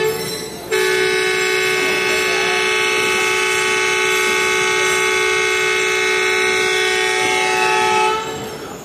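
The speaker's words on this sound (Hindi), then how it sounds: "तो ये हमारी ट्रेन का विसल था" Locomotive ZCU-30-6302 hauling the Tezgam train in Pakistan sounds its whistle, a powerful sustained tonal blast lasting about seven seconds at close range over rumbling background noise.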